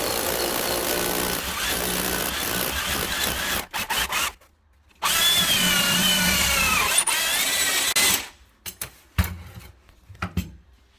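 Loud hammer drill grinding through brickwork in two long bursts with a brief pause between, then stopping with a few scattered clunks and short rattles.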